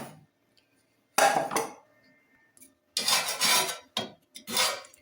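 Dirty dishes and cutlery being handled and washed in a home kitchen: three separate bursts of clattering and scraping with quiet gaps between them, close and fairly loud.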